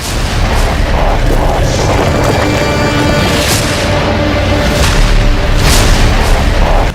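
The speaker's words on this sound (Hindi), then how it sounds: "दिवाली की रात में 9 बजे से 12 बजे तक का शो चल रहा था और तभी अचानक सिनेमा हॉल में आतिशबाजी की जाने लगी" Fireworks go off inside a cinema hall during a Diwali night show, a dense, loud continuous barrage of booms and crackling bursts with sharper pops recurring throughout.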